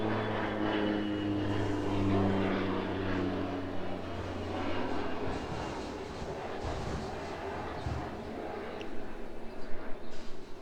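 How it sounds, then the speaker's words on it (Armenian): An airplane passes overhead during an outdoor gathering, heard as a steady, moderately distant propeller drone with a low engine hum that lingers and slowly shifts in pitch. "օդանավ էր անցնում, չուզեցի ձայնը դիստորցիայի ենթարկեմ"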